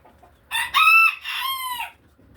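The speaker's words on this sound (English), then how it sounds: "Stop crowing." A rooster crows loudly and close by in a long, drawn-out two-part call lasting about a second and a half, with no talking over it.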